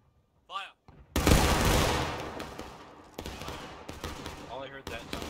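Musket volley in War of Rights, a Civil War shooter game, bursts out as one loud, crashing roar that rolls away slowly, followed by scattered later shots, with a shouted command just before and voices around it.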